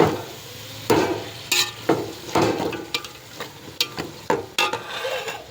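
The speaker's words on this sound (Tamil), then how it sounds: "நல்லா அப்படி வதக்கிடுங்க." Vegetables for veg biryani with green chilies are sautéed in oil, a spatula stirring and scraping the pan in repeated bursts over a soft frying hiss, fairly close and alone without any talk.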